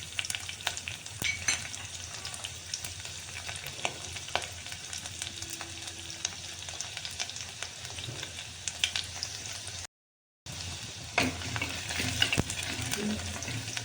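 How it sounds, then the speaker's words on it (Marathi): Garlic frying in hot oil in a kadai, a steady close sizzle with occasional stirring clinks that runs throughout, broken only by a brief silent gap. "आता लसूण टाकून"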